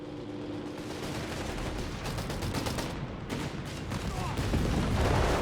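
Battle din from Company of Heroes 3, where a British six-pounder anti-tank gun is firing amid the fighting: rapid cracks and booming shots pile into a dense, continuous roar of gunfire that grows louder toward the end.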